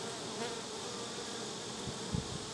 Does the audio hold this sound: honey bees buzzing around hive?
yes